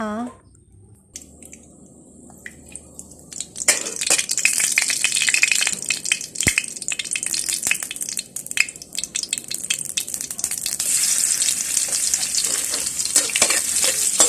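Pork stir-fried with fried garlic in a pan while making stir-fried beans with mushrooms, quiet at first, then a loud, crackling sizzle with repeated scraping and clatter that carries on to the end.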